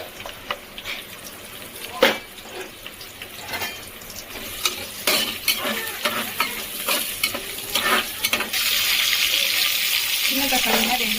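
Onions go into a hot frying pan for a Bangalore-style mushroom donne biryani and are stirred, with spatula knocks and scrapes over a bubbling sizzle that grows louder and denser toward the end.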